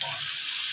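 Crab hits browned garlic in a hot pan and sets off a loud, steady frying sizzle with crackly hiss, close-up and without voices, lasting under a second.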